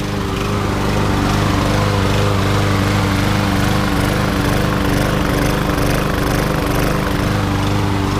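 A free small lawn mower engine with a damaged carburetor runs loud and close, its steady drone wavering slightly as it surges, with no talk.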